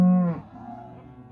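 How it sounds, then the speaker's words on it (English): A single loud, close cow moo, deep and drawn out then trailing off, from cattle being herded on a ranch during calf shipping and selling. "letting those cattle start to move"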